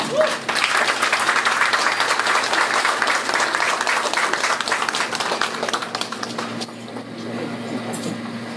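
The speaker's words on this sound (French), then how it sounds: "nous accompagnons son Excellence avec des applaudissements nourris." An audience at a Côte d'Ivoire anniversary reception in Washington, D.C. gives sustained, hearty applause for an ambassador; dense clapping holds steady for several seconds, then thins and fades under a low room hum.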